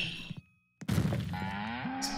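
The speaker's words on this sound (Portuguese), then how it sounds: "Vem cá, vaquinha." Moo from a cow in the Roblox game Book of Monsters, a drawn-out low bovine call that fills most of the clip after a brief impact and short silence, loud and close with no talk.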